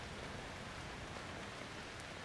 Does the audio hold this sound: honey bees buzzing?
no